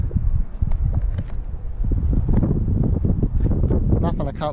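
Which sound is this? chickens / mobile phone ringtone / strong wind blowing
strong wind blowing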